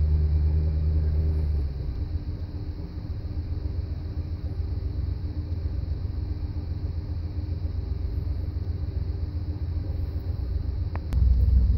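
Engine of an amphibious Big Duck vehicle running, a steady low rumble that idles on after an initial louder stretch, ending with a sharp click and a rise in the rumble.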